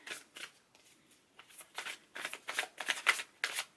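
Tarot cards being shuffled by hand in repeated bursts, each a crisp riffling flutter, close and fairly quiet, growing denser toward the end with no voices.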